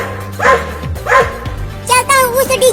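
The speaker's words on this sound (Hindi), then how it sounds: "ये दोनों कुत्ते तो यहाँ भी आ गए" Two cartoon dogs bark close by in short, sharp bursts, two separate woofs followed by a quicker run of yips and whimpers over a busy background.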